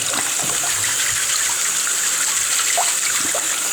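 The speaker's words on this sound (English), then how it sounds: "you always need to rinse the new filter" Running water pours steadily over a new aquarium filter being rinsed under a tap, a continuous close hiss and splash with no voices.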